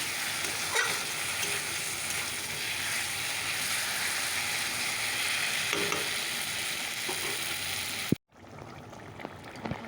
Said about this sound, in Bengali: হলুদ গুঁড়ো দিয়ে দিয়েছি চলো মশলাটাকে কষিয়ে নিই